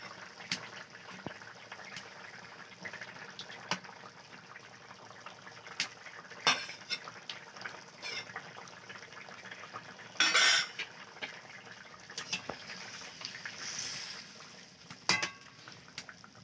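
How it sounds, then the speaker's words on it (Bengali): Cumin paste goes into a curry simmering in a pot in a Sundarban village kitchen, with scattered metal clinks, utensil scrapes and stirring over a low bubbling background, including a few sharper knocks against the pot. "এবার দিয়ে দেবো জিরে বাটা"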